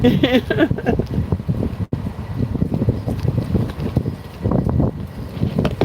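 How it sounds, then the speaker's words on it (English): Wind blowing hard outdoors on a beautiful day, a loud, continuous rumbling gust buffeting the microphone throughout. "the wind is picking up out here"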